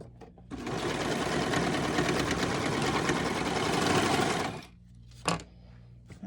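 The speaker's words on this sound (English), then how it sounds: "And now I can just sew that back together." A sewing machine stitches the seam of a T-shirt for an 18-inch doll in one continuous loud run of about four seconds, then stops, followed by a few soft handling clicks.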